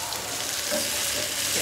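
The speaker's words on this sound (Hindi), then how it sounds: "तो अब हम इसे फ्राई करेंगे।" Small diced potato cubes fry in a pan with sautéed onions for an omelette. A continuous, close hiss of sizzling fills the short moment.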